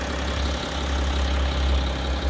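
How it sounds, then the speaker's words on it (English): A BMW 530d diesel engine idles steadily up close during a DPF cleaning job, its even, unbroken rumble holding the whole time with no voices. "What we've done now is we've started the engine"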